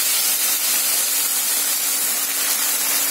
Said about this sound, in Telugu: ఇప్పుడు ఆ గోంగూరని దాంట్లో అదే ఆయిల్లో వేసేయండి.